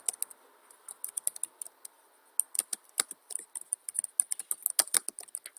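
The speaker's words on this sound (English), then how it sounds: "Now I'm going to start typing my title" Computer keyboard keys clicking in irregular bursts of rapid taps, with a short pause before a longer, denser run of typing; close and crisp in a quiet room.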